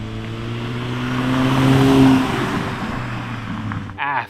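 A stock-intake VW Golf Mk8 engine revs on a dyno, a loud steady drone with strong low harmonics swelling and fading over about four seconds before a brief shift at the end.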